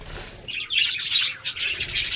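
Birds chirp and tweet in quick bursts, high and fairly close, with short pauses between calls and no talking.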